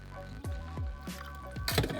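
Water swirled around inside an emptied can while cooking and then poured out, giving a run of close, wet drips and splashes with a fuller gush near the end.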